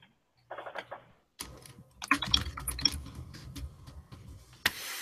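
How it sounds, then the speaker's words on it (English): Typing on a computer keyboard picked up over an online voice call: quick bursts of sharp clicks and taps at moderate level, uneven in rhythm, with a brief muffled voice-like sound near the start. "Ranger, I can hear typing."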